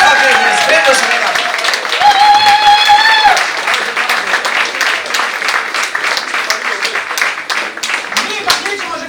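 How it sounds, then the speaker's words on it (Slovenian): Audience applause for performers at a theatre anniversary show, steady clapping throughout with voices and cheering mixed in, including a sustained whoop-like vocal tone early on. "dajmo en aplavz za Mojco, Jagota in Jana!"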